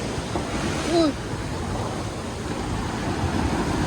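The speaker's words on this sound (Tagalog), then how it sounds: "Ayun ang laking alon, no?" Large ocean waves crash and wash at a Boracay beach, a steady broadband roar of surf and wind that stays close and continuous, with a brief rising voice sound near the start.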